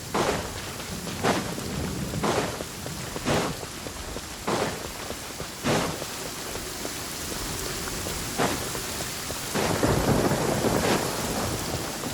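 Steady rain pours down in a stormy scene in the video game Genshin Impact, with repeated thunder cracks and rumbles rolling through every second or so over the constant hiss.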